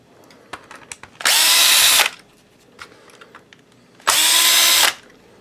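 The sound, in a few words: DeWalt DCD710 cordless drill removing screws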